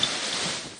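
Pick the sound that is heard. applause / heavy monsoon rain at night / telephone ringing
heavy monsoon rain at night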